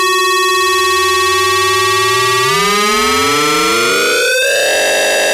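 Korg MS-20 Mini synthesizer tone, steady and harmonically rich with its oscillators modulated, sweeping and bending into swirling, converging pitch glides midway before settling, alone with no talk.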